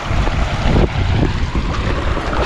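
A river flows past a campsite, making a loud, steady rushing roar with heavy low rumble, likely mixed with wind buffeting the microphone, and no voices.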